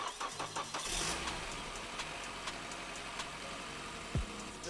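An S chassis car engine cranks and catches at close range, then settles into a steady idle with a low rumble, with no voices.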